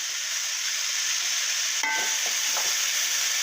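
Chopped beans and green chillies stir-fry with softened onion for a Kerala-style beans mezhukkupuratti, giving a soft, even hiss and light stirring, with a brief whistling tone partway through.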